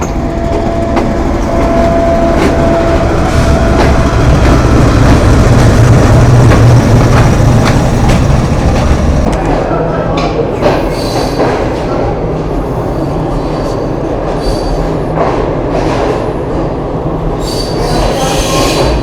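A freight train hauled by a GU40 locomotive squeals loudly along the rails at a Pakistani railway junction, a sustained high metallic screech over heavy rumbling wheels, close and continuous, with faint voices in the background.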